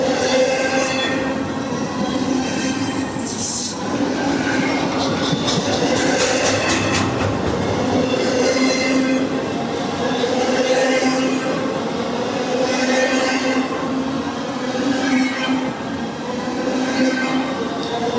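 CSX freight train on the Henderson subdivision rolling through downtown Madisonville, Kentucky, a close, loud, continuous rumble with a burst of wheel squeal and rhythmic clatter, no voices.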